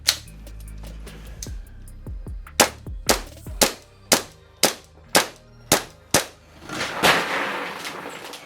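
A G&G SMC-9 gas blowback airsoft SMG fires a magazine outdoors in mild weather: about eight to ten sharp, close, loud shots in a fairly steady rhythm, followed by a brief rushing burst of gas. No voices are heard.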